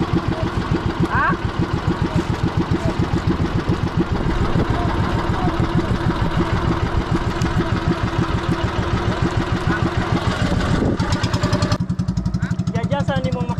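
A small fishing boat's engine idles with a steady, rapid mechanical chug that stays loud and close throughout, while voices talk over it.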